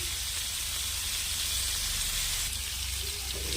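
Brinjal pieces sautéing in oil with salt and turmeric, a steady broad sizzle and hiss that holds evenly throughout, close and with no talking.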